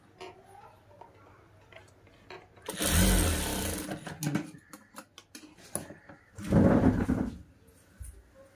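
A sewing machine stitches a child's frock made from an old saree in two loud bursts of rapid running, separated by quieter handling noises and soft clicks.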